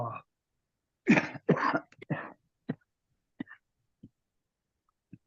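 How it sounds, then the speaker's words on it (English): Several coughs in a quick burst, followed by a few short throat sounds and small clicks trailing off into quiet, close to the listener. "This cough's gonna kill me."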